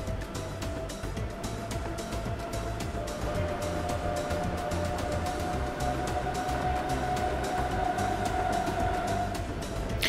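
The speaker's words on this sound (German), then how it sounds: "Und die 6020 macht sich weiter auf dem Weg Richtung Westbahnhof." An S-Bahn train, number 6020, rolls through a city in the Transport Fever 2 video game, giving a steady, loud rumble with a rapid clatter and a faint tonal whine, continuous and without speech.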